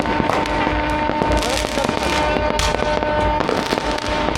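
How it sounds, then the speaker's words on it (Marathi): Firecrackers and fireworks burst during a night Sankranti celebration in Yeola, a dense, loud, continuous barrage of crackling pops and sharp bangs overlapping without pause. "आता आम्ही फटाके फोडणार आहे, फुल खतरनाक"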